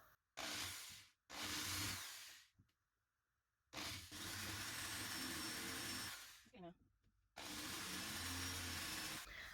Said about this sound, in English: I'll have a good solid place for this big one to rest in as I make the hole